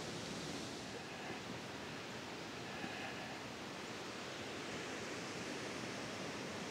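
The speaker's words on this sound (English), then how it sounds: "Waterfall's over there" Foster Falls waterfall roars as a steady, even wash of rushing water, heard faint and distant from a rocky trail with no other sounds over it.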